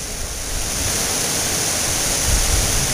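Water rushes at Split Rock Reservoir in a loud, continuous broadband roar like a spillway or waterfall, steady and close with no pauses.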